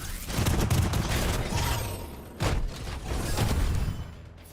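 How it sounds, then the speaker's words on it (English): Explosions in a video game: a dense, loud roar of blasts and crackling booms that swells and fades across several seconds, with one sharp burst partway through and no speech over it. "explosions."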